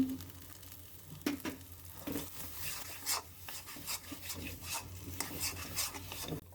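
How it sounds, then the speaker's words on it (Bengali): Potatoes fry in hot oil, crackling and sizzling steadily, with scattered sharp pops and scraping rasps, close by and with no voices. "আলু ভাজা হয়ে গেলে আমি ফিরে আসব।"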